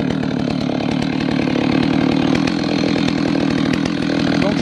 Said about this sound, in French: je porte la tronçonneuse sur moi